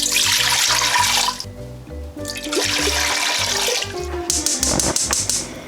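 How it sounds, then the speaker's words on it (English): Water pours and splashes into a metal pressure cooker in a steady loud stream, interrupted by short pauses between pours. "let's just go ahead and open this up and add the water. Add 4 cups."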